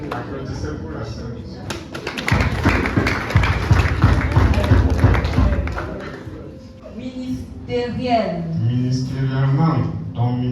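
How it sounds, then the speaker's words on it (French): A church congregation claps and cheers during a worship service, a dense burst of applause mixed with crowd noise and voices that swells, fades briefly, then continues under talking and music. "Applaudissez pour la sœur."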